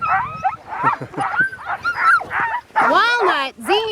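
Sled dogs on a warm-weather dog sledding ride whimper, yip and whine in rapid, overlapping bursts close by, with higher, rising cries near the end.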